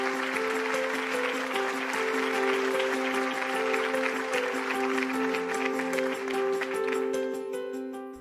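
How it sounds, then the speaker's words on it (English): Warm applause for a winner at the 2020 Upstate Women of Influence virtual awards show rolls steadily over a sustained musical backing, holding level for several seconds before fading out at the end. "Let's give her a virtual round of applause."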